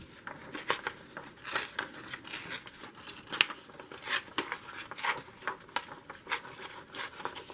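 Paper is torn out of a book for a journaling page in a series of quick, crisp rips and crinkles, separated by short pauses and close by.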